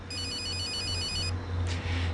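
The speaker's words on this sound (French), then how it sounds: "Téléphone." A telephone rings with an electronic tone for about a second over a low indoor hum, followed by a short rustle.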